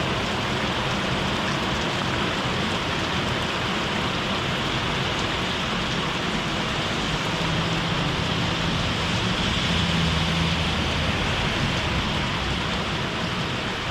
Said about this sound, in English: This rain's kind of making a little wind that feels good.